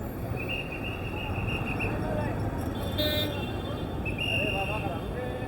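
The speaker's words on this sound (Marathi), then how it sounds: "मागं ट्रॅफिक बघा" Road traffic at Shanipar Chowk in Pune during a PMPML bus shutdown: a constant roar of engines, with a couple of car horns sounding partway through and a person talking over the din.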